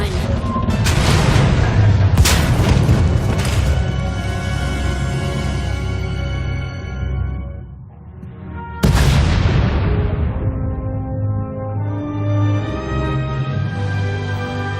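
Two heavy booming video game explosions in Star Wars: The Old Republic, as a tunnel collapses, roll out in long decaying rumbles, the second hitting sharply after a brief lull.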